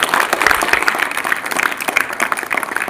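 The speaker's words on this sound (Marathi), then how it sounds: "तर एकदा जोरदार टाळ्या." Hands clap loudly in a burst of applause from the audience at a school National Science Day event at Shri Shavarsiddh High School, Achegaon, dense and continuous, close and fairly loud for a few seconds.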